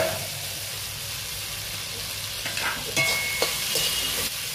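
Peas frying with turmeric in a kadai make a steady close sizzle, with occasional scraping from stirring toward the end.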